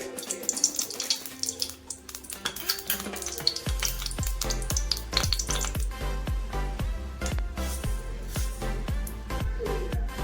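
Oil heats in a pan for tomato saaru, with dense crackling and sizzling that grows into a steady spitting fry, close and moderately loud.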